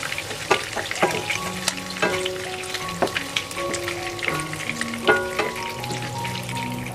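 Food frying in hot oil until lightly browned, a steady close sizzle with scattered pops and crackles, plus a few tonal clinks and scrapes of a utensil moving through the pan.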